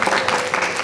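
Studio audience clapping to welcome a contestant on a comedy game show, a dense steady burst of applause throughout.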